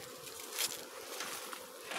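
Honeybees buzz in a steady, close drone just after being shaken off a frame of honeycomb from a hive super, with faint shuffling and patter underneath.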